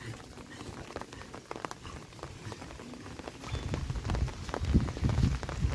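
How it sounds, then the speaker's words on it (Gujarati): Light, irregular patter of rain drops close by during a windy rainstorm, growing louder and heavier toward the end, with some low rumbling underneath. "ને હજી વરસાદ ચાલુ જ છે બંધ કંઈ થયો નથી"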